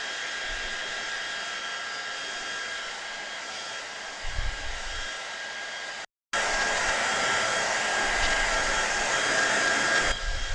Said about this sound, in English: Dry, dry, dry, electric dry. Won't be a second.